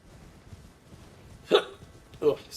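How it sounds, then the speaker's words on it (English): Two sharp hiccups from a person, about three-quarters of a second apart, close to the microphone over quiet background. "Hiccups. Never come when you're on your own."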